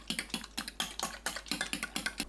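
Six eggs with fine salt and soup soy sauce are beaten in a microwave-safe bowl, giving a close, quick run of evenly spaced clicking taps against the bowl with no voices.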